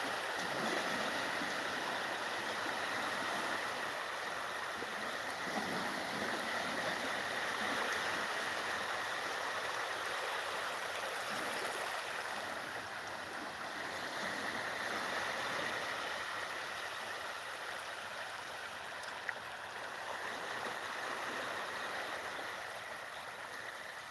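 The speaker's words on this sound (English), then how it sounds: "these tiny little waves can just, burble their way along for about 30 meters." Tiny waves burbling along a long, flat beach shore in Thailand, a steady, soft wash of water noise that stays even and continuous throughout with no voices.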